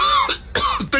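A man coughs in a Dominican radio commercial on a Santo Domingo FM station, three harsh, loud, close coughs in quick succession.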